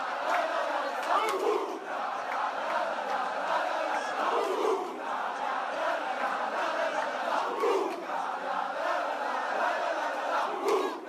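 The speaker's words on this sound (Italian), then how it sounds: "le coreografie, i cori regalati dai supporter rossoblù sono stati uno spettacolo straordinario per occhi e cuore" Rossoblù football supporters of Vibonese chant together in a stadium, a loud, continuous crowd roar with rhythmic swells of massed voices throughout.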